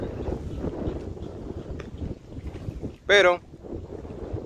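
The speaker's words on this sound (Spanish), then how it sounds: "ahorita el viento está fuerte, medio fuerte. A ver cómo me sale la grabación" Strong outdoor wind buffets the microphone in a steady, low, rumbling roar, with a brief spoken word partway through.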